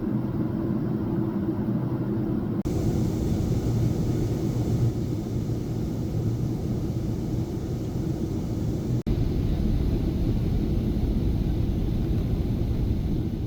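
Steady, loud cabin rumble of a Philippine Airlines Boeing 777-300ER circling over the Gulf of Thailand during descent, a broad engine and airflow roar that shifts tone slightly a few times, with one brief thump.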